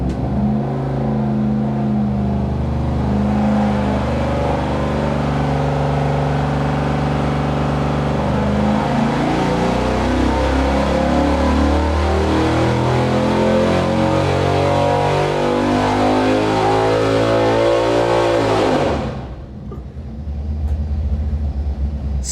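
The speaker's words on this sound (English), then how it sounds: "Eric's got it all queued up on the dyno, and we are about ready to make a power pull" Pontiac Ram Air V tunnel-port V8 roaring on an engine dyno during a full power pull, loud and close, pitch climbing steadily for almost twenty seconds before abruptly dropping back to a lower idle.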